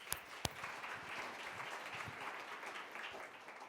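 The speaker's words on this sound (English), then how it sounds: "Can we give him a round of applause?" An audience gives a round of applause, steady clapping at moderate distance with a couple of sharper claps at the start, fairly quiet overall.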